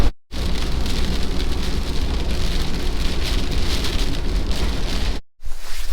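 A steady rain shower on the Beara Peninsula in Ireland, dense hissing patter close by that holds constant, broken only by two brief silent gaps, with no talking.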